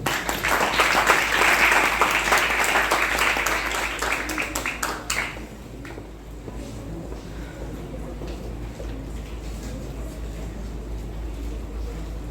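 A lecture audience breaks into dense, loud applause for about five seconds, which then fades into a quiet room hum.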